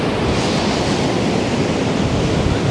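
Storm surf pounding the beach at Anapa, a steady, loud, broadband roar of heavy waves that fills the whole stretch without pause, with wind buffeting mixed in and no voices.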